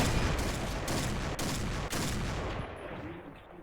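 Dense, sustained burst of rapid video game gunfire, loud and continuous with a few sharp breaks, trailing off at the end.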